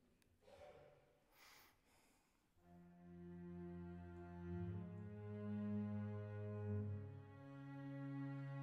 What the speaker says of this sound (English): the bass line sounds like this.